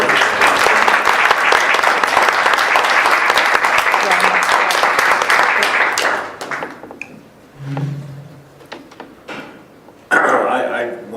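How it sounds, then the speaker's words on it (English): Audience at a community advisory council meeting breaks into a big round of applause, dense and loud for about six seconds, then fading to scattered claps and murmuring voices, with a brief burst of clapping returning near the end. "I think we all should give Kelly a big round of applause."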